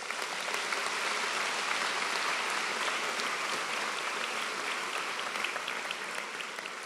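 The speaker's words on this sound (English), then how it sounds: "So maybe a round of applause for all of them." Sustained applause from a large crowd at a college graduation ceremony, a dense even wash of clapping that holds steady for several seconds and tapers slightly near the end.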